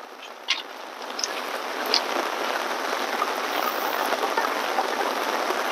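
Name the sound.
rain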